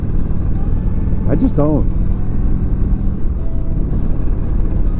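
A motorcycle engine rumbles steadily and loudly throughout a ride, joined by continuous wind noise, while someone briefly speaks over it.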